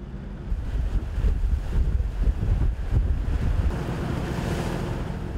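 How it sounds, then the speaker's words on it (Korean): Rough seas off Jeju just after a typhoon: heavy waves surge and crash continuously while strong wind buffets the microphone, loud and close from a fishing boat, with no talk. "태풍이 지나간 직후 제주의 바다는 아직 파도가 거셉니다."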